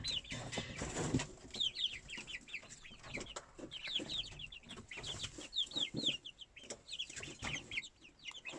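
Backyard chickens cluck and call repeatedly in quick, chattering bursts, fairly close, with brief rustling and a wing-flap-like thump near the start; no one speaks.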